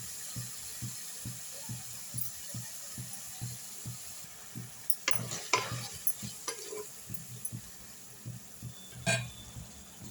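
Mutton is stirred and mixed in a pan with onion and tomato, a steady rhythm of soft scraping strokes over a low sizzle, with a few sharper clanks near the middle and end.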